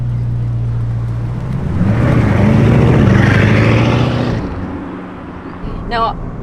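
Bugatti Divo supercar engine rising in pitch as it accelerates hard, a loud swelling roar that peaks and then falls away, with a voice speaking over it.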